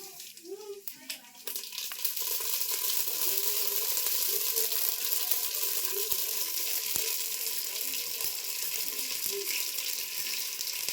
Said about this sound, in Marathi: तेल कापलंय आता राई टाकते